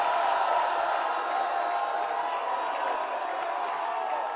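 A church congregation cheers and shouts together during a sermon, a dense, steady wash of many voices that stays loud and sustained throughout.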